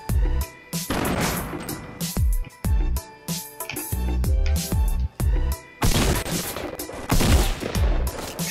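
Fortnite gunfire rings out in loud, rapid bursts of shots and impacts, broken by short pauses, with no talking over it.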